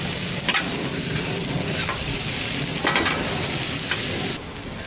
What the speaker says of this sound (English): Let's cook up this brisket.